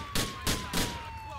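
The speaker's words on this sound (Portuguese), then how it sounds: "Tiro no pneu." Three quick gunshots aimed at a car tire in the Grand Theft Auto police game, evenly spaced sharp bursts over a steady engine-like hum.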